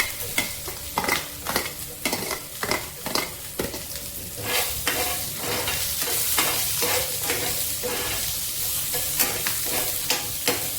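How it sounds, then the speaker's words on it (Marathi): Onion fries in oil with popping mustard seeds, a steady sizzle broken by repeated sharp scraping stir strokes, close and alone. "कांदा पण तेलात घालून घ्यायचा, चांगला ब्राऊन होईपर्यंत आपण हा परतायचा आहे"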